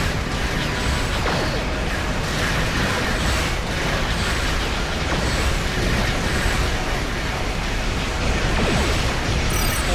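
Starship weapons firing in Star Trek Online during a space battle, a dense continuous roar of blasts and crackling energy with repeated bursts layered throughout, loud and sustained.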